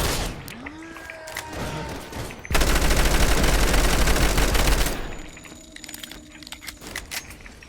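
A magnum fired in a Roblox game gives a dense, loud burst of gunfire lasting about two and a half seconds in the middle, with softer game sounds and clicks before and after.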